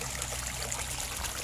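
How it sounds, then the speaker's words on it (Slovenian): A small stream polluted with oil from an excavator trickles and burbles steadily nearby, with no break in the flow over the short moment. "To je nek potok."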